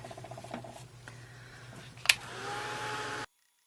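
A small hand dryer blowing on freshly cleaned craft thank-you tags gives a steady, fairly quiet whirring hum for about three seconds before cutting off abruptly.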